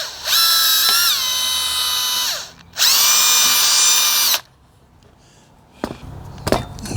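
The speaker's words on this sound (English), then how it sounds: "So I'm just going to drill that hole now." A power drill whines loudly and close in two sustained bursts as it bores a pilot hole into a wooden bulkhead of a model Hawker Tempest warplane, then goes quiet apart from a few light handling knocks.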